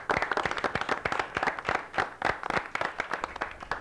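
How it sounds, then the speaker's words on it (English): A quiz team at an Academic Challenge Bowl gets a burst of audience applause, dense overlapping claps at steady loudness throughout, with no talking over it. "Give yourselves a round of applause."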